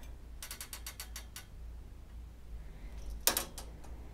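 A quilting frame is rolled back, giving a quick run of ratcheting clicks, a pause, then a second sharper burst of clicks, all faint against a quiet room.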